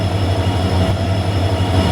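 The Purna Express rolls into the station with a loud, steady low rumble and a strong hum that run unbroken throughout. No one speaks.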